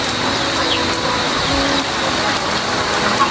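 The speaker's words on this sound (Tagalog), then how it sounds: "Lakas po ng ulan" Heavy rain pours down steadily in a dense, loud hiss that never lets up, with faint background sounds blended in.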